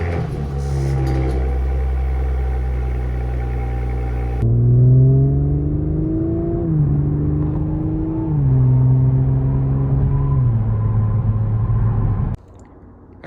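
A 2021 Audi S5 (B9/9.5) drives to warm its engine oil, with a steady interior engine drone that rises and falls through several gear changes and accelerations before cutting off abruptly.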